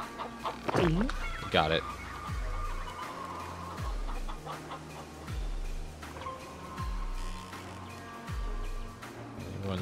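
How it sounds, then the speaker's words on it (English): Chickens clucking on a farm with a corn maze, with scattered bursts of clucks and calls over a low rumble while a person talks and calls out to them nearby. "Hi, chickens. Can I have that, please? Chickens! Chickens!"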